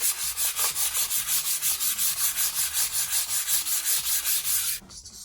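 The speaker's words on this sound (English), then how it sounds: "we're going to rub out all of this so it looks smooth" Hand-sanding a surface smooth before painting during a home improvement job, heard as a steady, loud, rhythmic scraping of rapid back-and-forth strokes that stops abruptly near the end, with no voices.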